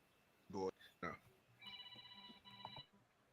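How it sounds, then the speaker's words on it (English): A telephone rings faintly in a steady electronic trill, two short ring bursts, heard under and between talk. "That's the phone."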